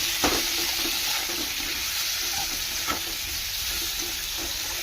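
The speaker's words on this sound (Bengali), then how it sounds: "আলুটা দিয়ে এবার ভালো করে কষাবো।" Boiled potatoes frying in hot oil with onion and garlic, a steady close sizzle with a few brief clinks and scrapes of stirring, no talking.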